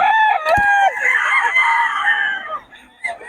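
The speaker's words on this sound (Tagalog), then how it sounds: "Maganda ng manok ni Boss Jun." A rooster gives one loud, close crow, a rising then drawn-out call followed by a few trailing clucks, with a sharp knock near the start and faint background noise.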